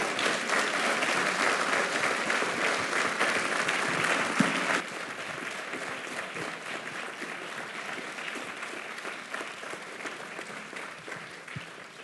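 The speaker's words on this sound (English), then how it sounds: "Let's give them a warm round of applause." Audience at a university Founder's Day convocation breaks into a warm round of applause, loud and dense for several seconds before easing to a lighter, continuing patter of claps.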